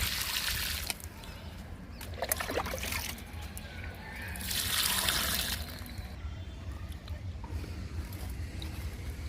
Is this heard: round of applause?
no